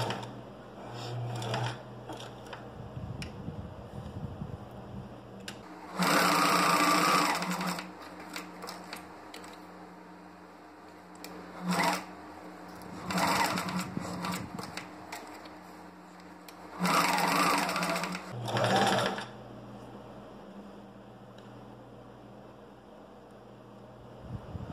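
A sewing machine stitches a patch pocket in several short bursts of rapid mechanical clatter, separated by quieter pauses, fairly close and moderate in level.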